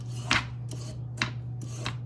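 A knife slicing a carrot into long slices on a board, four crisp strokes spaced about half a second apart, heard close over a steady low hum.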